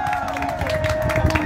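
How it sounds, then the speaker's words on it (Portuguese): A crowd claps and cheers at a school principal's surprise birthday celebration, with steady close applause, whoops and a sustained high voice or whistle running through the noisy, continuous din. "Uma salva de palmas."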